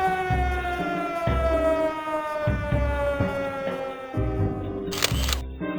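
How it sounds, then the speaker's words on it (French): A factory siren sounding in a French village to warn workers that the gates are opening, a long sustained wailing tone slowly falling in pitch, with low mechanical pulsing beneath and a sharp click near the end. "La sirène retentit de nouveau, afin d'avertir les ouvriers de l'ouverture des portes."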